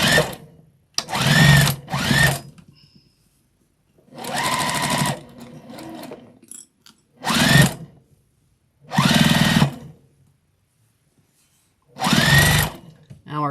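A sewing machine stitches fabric for a Christmas bowl cozy made from scraps, running in six short, loud bursts with silent gaps between them and brief back-stitch stops.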